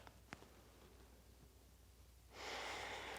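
A single long yoga exhale begins partway through and continues as a steady, close, breathy rush to the end, after a near-silent stretch with one faint click.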